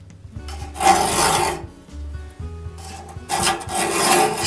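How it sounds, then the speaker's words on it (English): A hand file rasping the tooth of an old one-man crosscut saw along its original bevel: two long, gritty bursts of back-and-forth strokes, loud and close, with no talking. "I'm going to file following the original bevel of the tooth"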